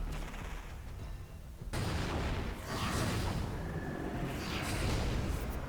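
Gunfire from Banshee Prime in the video game Warframe: a sudden loud burst breaks a quieter stretch, followed by more sharp, booming shots and rumbling impacts.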